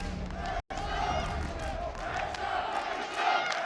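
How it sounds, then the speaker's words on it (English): Esports arena crowd at a CrossFire group-stage match between BaiSha Gaming and Team Falcons, rowdy cheering and shouting swelling under a caster's voice, with a brief dropout early on. "the crowd is starting to get rowdy for it."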